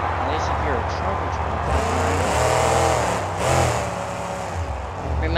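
Devastator monster truck roaring through a Monster Jam arena, its engine revving and droning steadily under loud commentary and crowd noise.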